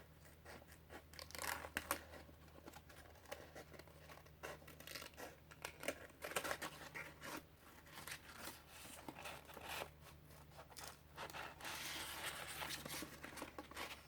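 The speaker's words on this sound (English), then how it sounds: "I'm going to cut them now. I'm using nail scissors." Small nail scissors snip through paper in quick, irregular cuts, close and quiet, with light rustling between the snips.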